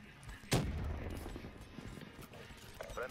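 A Shiva rifle fires in Call of Duty, giving one loud, sharp shot that fades quickly. Faint game noise and background voices follow.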